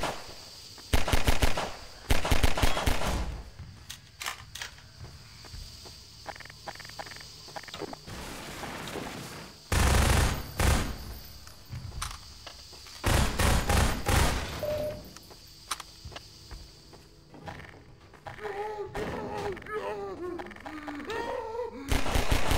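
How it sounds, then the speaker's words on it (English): Gunfire and shelling in the video game Half-Life 2: loud bursts of automatic fire and heavy blasts come in clusters around the start, middle and two-thirds mark, with quieter clatter and scattered noises between them. "That's a weird kind of shelling."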